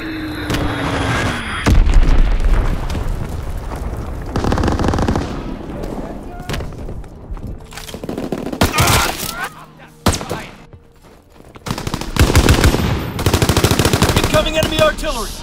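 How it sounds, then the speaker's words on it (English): Call of Duty WWII multiplayer combat: bursts of machine-gun and rifle fire crackle alongside heavy booms from an incoming enemy bomb, loud and close, with shouted voices in between. "Enemy bomb incoming! Get to cover!"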